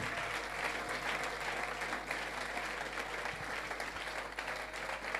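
A church congregation applauding, a sustained, even round of clapping from a crowd, fairly close and continuous throughout.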